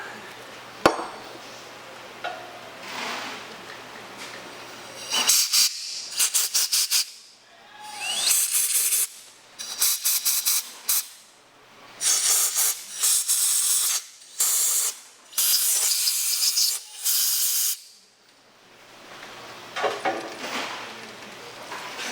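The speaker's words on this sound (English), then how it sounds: "So we'll kind of get them all wet with contact cleaner and blow them out." Contact cleaner sprayed onto engine bolts during a lower-end rebuild: a series of sharp, loud spray bursts, each lasting about a second, come in quick succession after a quieter opening, with short pauses between them and a quieter stretch at the end.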